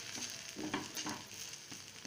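Thick potato-stuffed chapathi on an oiled dosa tawa, a soft close sizzle with gentle crackling pops and faint scraping.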